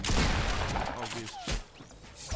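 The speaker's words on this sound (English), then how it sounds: "Where did I get shot from?" Bursts of gunfire in a Fortnite Battle Royale match, a couple of close, sharp shots over about two seconds, with a person talking over them.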